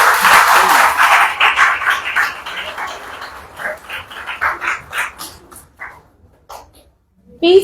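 A crowd applauds for a named child at a church gathering, producing a burst of loud, dense clapping that thins into scattered claps and fades to near silence before a final fresh burst.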